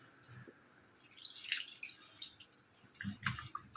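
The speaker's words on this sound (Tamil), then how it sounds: "கொஞ்சமாக தண்ணி ஊற்றி அடுப்பில் வச்சிட வேண்டியதுதான்." Water trickles and drips into a fish curry pot at home, a faint, uneven run of small splashes and drips with no talking.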